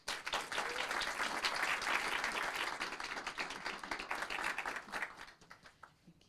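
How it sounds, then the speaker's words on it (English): At a city council meeting, a room applauds to welcome an Air Force staff sergeant to the microphone. Brisk, dense clapping runs steadily for about five seconds, then thins and dies away into near quiet. "let's give her a warm round of applause"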